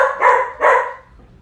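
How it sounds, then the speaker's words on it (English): A dog barks twice in quick succession, loud and close, the second bark followed by a fading tail into quiet room noise. "Sometimes I have to deal with the crazy dog."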